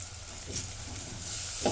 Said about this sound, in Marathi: आता ह्याच्यामध्ये आले लसूणची पेस्ट टाकून घेते एक चमचा